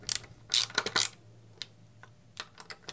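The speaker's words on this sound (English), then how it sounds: "these will just tap right into the composite on the back of the Roto View" Screws being driven into the composite back of a RAM Roto View adapter plate, a close series of sharp ratcheting clicks and scrapes, dense at first, then sparser taps.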